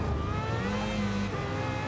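A Trans Am Mustang race car in Gran Turismo 7 drones with a loud, continuous engine note whose pitch shifts as it runs under throttle, with no talking.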